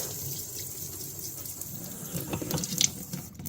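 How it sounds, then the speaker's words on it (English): Water runs steadily from a tap into a sink to rinse an item bought at a swap meet, a soft, continuous hiss and splash at close range with a few clinks near the end. "In the sink, let's give it a bit of a rinse."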